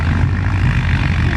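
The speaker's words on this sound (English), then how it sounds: "7-cylinder engine. Radial engines." A 7-cylinder radial aircraft engine runs steadily at an airshow, a loud, continuous, close-up propeller drone with a low throbbing pulse and no voices.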